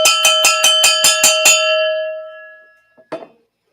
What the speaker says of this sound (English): we need to do a little bit of cowbell for Barbie.